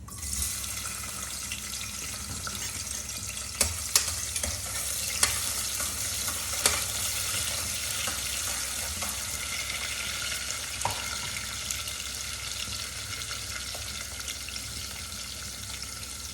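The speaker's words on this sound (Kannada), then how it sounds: "ಈಗ ಎಣ್ಣೆ ಕಾಯಿದೆ, ಸ್ವಲ್ಪ ಜೀರಿಗೆ ಹಾಕ್ಕೊಳ್ತಾ ಇದ್ದೀನಿ" Chopped onion fries in hot oil with cumin seeds for tomato bath, giving a constant, even sizzle with a few sharp crackles and clicks over the top.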